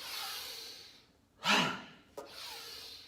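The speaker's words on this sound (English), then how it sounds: "let's add the Hara breath here" Hara breathing exercise, a quiet room tone broken by one forceful, breathy exhale rushing out near the middle, followed by a brief softer catch of breath.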